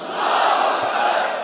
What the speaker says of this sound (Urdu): آئیے میرے ساتھ نعرہ بلند کریں، نعرہ تکبیر،